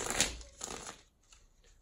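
Tarot cards being shuffled close up: a crisp riffle burst followed by softer shuffling flutters that taper off into quiet, with no talking.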